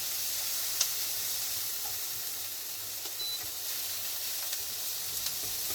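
Mince frying in a pan, cooked slowly for a long time, giving a steady, even sizzle that runs unbroken throughout with a few faint clicks from the pan, close by and without talk.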